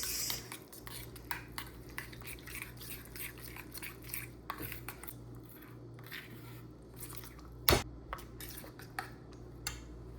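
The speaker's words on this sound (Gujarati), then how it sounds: "હળદર, તીખું મરચું ને ધાણા જીરું ન કરી દેના મિક્સ." A spoon stirs turmeric, chili powder and coriander-cumin powder into curd in a bowl, making close, irregular metallic clinks and scrapes, with one sharp louder knock near the end.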